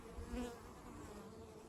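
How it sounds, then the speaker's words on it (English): Faint, steady buzzing of many honey bees close by in a hive, a soft continuous drone with no voices. "Lots of bees."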